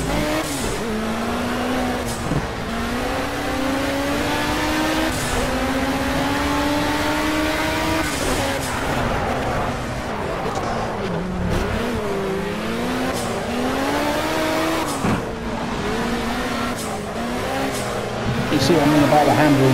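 Turbocharged BMW 320 Turbo Group 5 race car in Project CARS, driven at the Historic GT5 UK Trophy at Oulton Park, its engine revving and shifting steadily through gears for the whole stretch, with occasional tire squeal and a voice talking over it.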